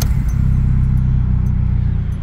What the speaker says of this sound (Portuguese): Vou ligar o carro aqui para vocês